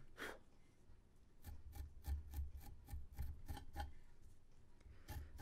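A blade scrapes across a leather surface while it is pared thin for corner work, giving a quick series of short, sharp scratching strokes, close and fairly quiet, with no talking.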